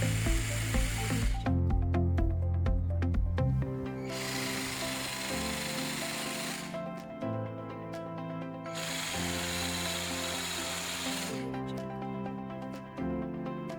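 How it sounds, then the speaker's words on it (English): A power drill bores 6 mm holes, 25 mm deep, into a wall while a door phone is being installed, in two or three loud bursts of steady whining drilling separated by brief lower-pitched pauses. "use a 6 mm diameter drill to make 4 holes with a depth of 25 mm at the marked positions"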